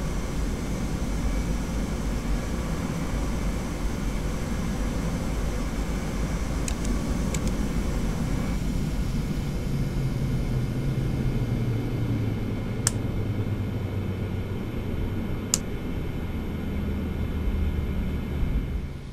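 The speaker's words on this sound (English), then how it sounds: "let's get the engine shut down and get our passengers off this plane" Engines of a TFDi Design 717-200 airliner shutting down in the Prepar3D flight simulator: a steady broadband roar with a low rumble that eases and settles, joined near the end by a few faint short clicks, with no talking.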